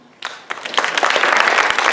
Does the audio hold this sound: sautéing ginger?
no